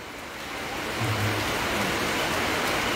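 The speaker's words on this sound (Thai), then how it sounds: "เพราะมันตกจริงๆเนาะฝนเนาะ" Heavy rain pours down at a Thai temple, Wat Doi Thep Nimit, as a steady, dense broadband hiss that swells slightly and holds at an even level throughout, with no voices over it.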